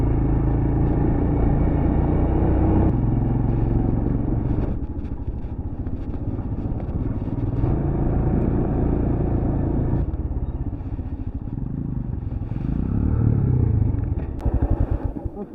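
A motorcycle riding a dirt track near Queenstown, New Zealand, its engine a loud, continuous close rumble that shifts pitch with gear changes, and rattles and clatters over rough ground near the end.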